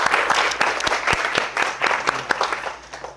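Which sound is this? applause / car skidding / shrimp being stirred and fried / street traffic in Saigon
applause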